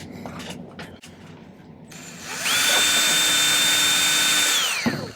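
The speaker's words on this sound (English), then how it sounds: "Let me grab my portable drill and an old file." A portable drill chucked with a silver ring spins up after a few light clicks and handling taps, whining loudly and steadily for about two seconds before winding down.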